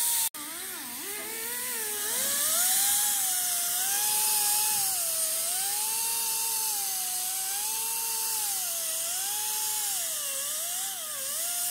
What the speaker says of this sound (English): I'm grinding it down so you can weld it quickly